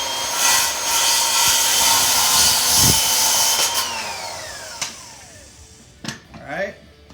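Worm drive circular saw cross cutting a board, a steady loud cutting whine lasting several seconds and then winding down, with a few knocks and a scrape near the end.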